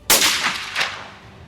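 A single rifle shot at a springbuck on a hunt, a sharp loud crack followed by a rolling echo that fades over a second.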